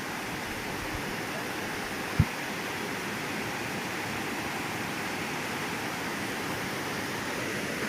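Water pours over rocks at the Kolla Bailu waterfall near Madanapalle, a dense, even roar that holds steady throughout, with one brief knock early on.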